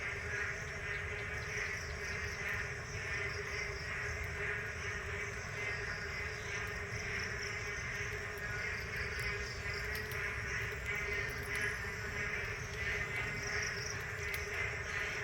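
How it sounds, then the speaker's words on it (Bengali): Frogs calling in a dense, steady evening chorus after heavy rain, around a house with waterlogged ground, mixed with insect-like chirring. The sound is continuous and fairly loud, with no talking. "সেই কারণে নিশ্চয়ই তোমরা ব্যাঙের ডাক শুনতে পেয়েছো"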